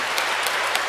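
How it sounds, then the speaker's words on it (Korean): Applause from a congregation at a Catholic baptism ceremony: dense, steady clapping from many hands, filling the short moment at an even level. "감사의 인사 박수 드릴게요."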